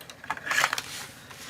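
Faint crinkly rustling of plastic wrapping torn and pulled open on a packaged Warhammer 40,000 Conquest magazine, a brief burst of crackles amid quiet background noise.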